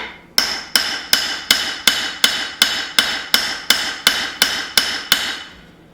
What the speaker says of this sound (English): you could even hammer in a taper to the rear of the handle